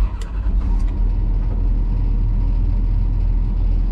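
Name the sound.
John Deere 215 excavator engine starting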